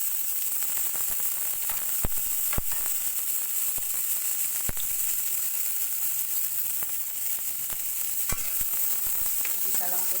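Sliced chicken breast and carrots stir-frying in a pan, with a steady close sizzle and scattered clicks of stirring throughout.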